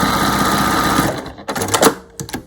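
A sewing machine stitches bunting flag fabric in a fast, steady close-up whir that stops abruptly after about a second, followed by a few short clicks and handling sounds.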